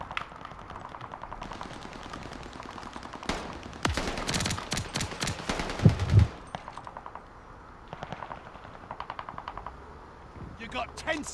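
Rapid automatic gunfire in COD Vanguard, bursts of quick rattling shots that come and go, with a dense, loud stretch in the middle followed by shorter, quieter bursts.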